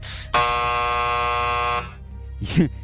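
A loud, sustained electronic game show buzzer drones for about a second and a half, followed by a brief burst of a voice.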